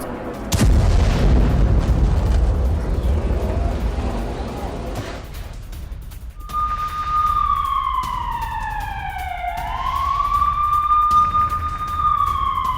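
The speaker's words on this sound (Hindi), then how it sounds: "लाइव रिपोर्टिंग के दौरान रॉकेट अटैक हुआ।" Rocket attack in Israel with air-raid sirens wailing: a loud burst of blasts and rumbling chaos first, then rising and falling siren tones sweeping steadily over a noisy background.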